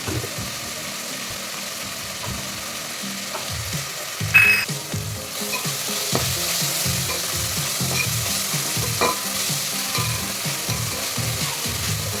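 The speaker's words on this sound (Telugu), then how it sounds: "ఆ తర్వాత టమాటాలు వేసుకొని మెత్తగా ఫ్రై చేసుకోవాలి." Tomatoes sizzle and fry steadily in an oil-filled pan for bagara rice while a spatula stirs them in repeated scraping strokes, loud and close, with no talking.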